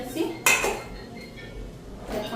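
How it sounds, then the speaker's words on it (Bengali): A kadai is set down on a kitchen stove while paneer curry is being cooked: one sharp metallic clank, then quieter clinks of pots and utensils, with a second clatter near the end. "এখানে কড়াইটা দিলাম"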